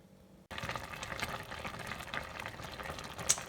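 Citron and watermelon jam cooks over medium heat, a steady close bubbling and simmering that starts abruptly and runs on evenly, with one brief brighter pop near the end.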